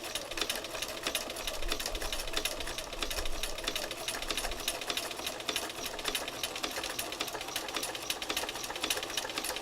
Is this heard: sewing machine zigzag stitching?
yes